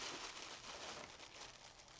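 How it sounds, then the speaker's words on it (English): A plastic bag of broccoli being crinkled and emptied out: dense, continuous crackling rustle of thin plastic, close and fairly quiet, with no talking. "here's a bag of broccoli right there. I'm gonna dump it out"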